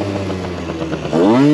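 A motorcycle engine idles with a chugging pulse, then revs up sharply for a wheelie attempt, its pitch climbing loud and close near the end of the short burst.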